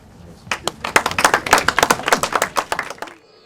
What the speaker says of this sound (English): Ross, we applaud you, so thank you very much.